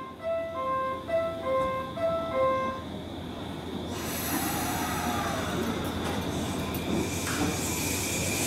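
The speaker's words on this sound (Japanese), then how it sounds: "次の電車をご利用ください。" A JR train at Shinagawa station platform: an electronic departure chime plays in short tones, then a train rolls through with steady rumbling and wheel noise filling the platform, fairly loud and close.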